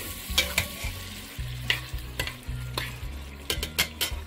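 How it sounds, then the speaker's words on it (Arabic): Vermicelli and meat being stirred in hot oil in a pan, with repeated scraping strokes over a steady frying sizzle, close and fairly loud, no talking. "حمي الزيت مسقط الشعيرية، عم نضلنا نقلب باللحمة لحتى تتشرب كل المواد اللي حطيناها بقلبها"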